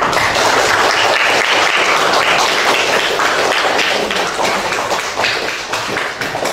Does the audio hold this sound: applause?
yes